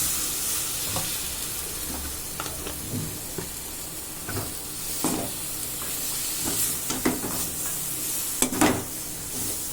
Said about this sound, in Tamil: நறுக்கி வச்சுருக்கிற குடமிளகாய் வந்து அதில் போட்டு நல்லா வேக வைக்கணும்